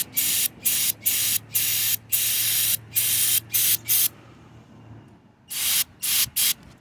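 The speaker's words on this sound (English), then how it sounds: "it's starting to spray out the other side" Loud, close bursts of cleaner spraying through a fuel injector from a Honda CBR600RR, a rapid series of hissing sprays separated by short gaps, then a quiet pause before a few more bursts.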